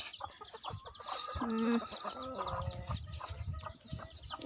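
Mother hens cluck and murmur close by in a busy coop, with their newly hatched chicks peeping and a voice talking underneath.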